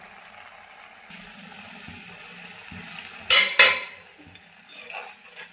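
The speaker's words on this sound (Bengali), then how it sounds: "দেখুন এইভাবে উলট পালট করে ভেজে নেব।" Potato smileys frying in oil, a low steady bubbling sizzle broken by two loud sharp scrapes or clatters of a utensil turning them in the pan, then quieter frying.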